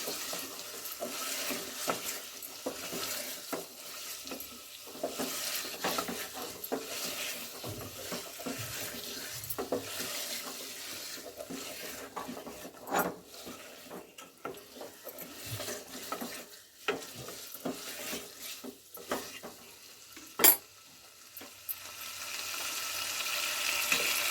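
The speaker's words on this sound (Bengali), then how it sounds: "মিট মশলার সঙ্গে ভালো করে কষিয়ে নেবো চিকেনটা" Chicken with meat masala sautéing in a pan is stirred continuously, producing a sustained frying sizzle with dense scraping and rustling that rises and falls over a long stretch.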